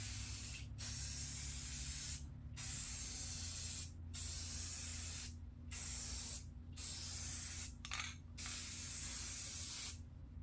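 Rust-Oleum spray paint hisses from an aerosol can in steady bursts of about a second or more, separated by short pauses, over a constant low background hum.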